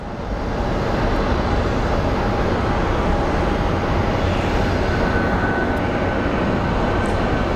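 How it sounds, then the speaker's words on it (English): Regional jets taking off at Phoenix Sky Harbor airport, a loud sustained roar of jet engines at full thrust that holds steady throughout, dense broadband rumble with a faint whine on top. "So a lot of regional jets taking off at this time"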